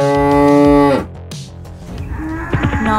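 A giant golden-horned cow gives a loud, drawn-out low moo over a musical backdrop, followed by rumbling impacts and a few shorter tonal sounds.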